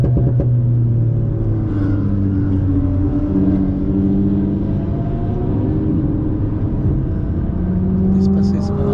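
An Alpine race car accelerates hard on the Bugatti circuit, a loud, sustained engine roar whose pitch climbs steadily through the gears, heard close from on board.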